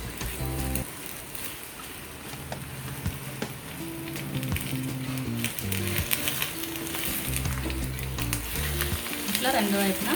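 An egg sizzles and crackles in a hot frying pan for a breakfast egg fry roast, a continuous loud frying hiss with occasional stirring and scraping, with no talking.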